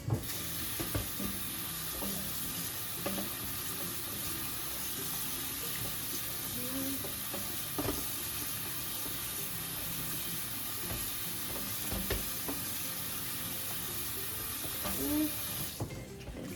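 Running tap water pours steadily over canned corn being rinsed in a kitchen sink, a continuous hiss and splash with occasional clunks and rattles close by.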